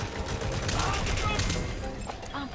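Continuous loud bursts of automatic gunfire in a Metal Gear Solid V: The Phantom Pain firefight, dense and sustained, with faint game voices mixed in.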